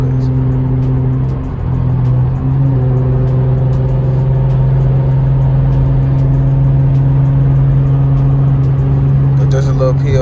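A Jeep is driven late at night, heard from inside the cabin. Its engine gives a steady, loud droning hum that holds throughout, with a person talking over it.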